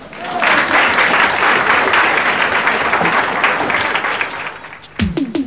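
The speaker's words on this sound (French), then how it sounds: "On l'applaudit quand même." Audience applause for a climbing bean facing an 8 cm diameter stake in a 1986 plant documentary, a dense, steady burst of clapping that fades near the end, followed by a few sharp knocks.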